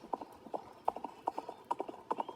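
Horse hooves clip-clop at a steady trotting rhythm while riding in a video game, a run of crisp, evenly spaced hoof strikes that stays fairly quiet throughout, with no voice over it.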